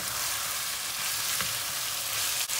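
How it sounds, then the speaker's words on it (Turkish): Tomato paste with tomatoes and peppers frying in a hot pan, a steady close sizzle throughout with no talk and a brief soft clatter near the end. "Salçamız kavruldu. Domatesini biberini atıyoruz."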